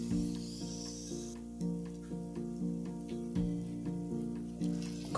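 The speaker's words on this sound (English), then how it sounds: "Fry the onions for around 1 minute and then add your potatoes to fry." Onions, potatoes and green peppers fry in a pan, a continuous sizzle broken by regular scraping strokes of a spoon, close and fairly loud with no talk.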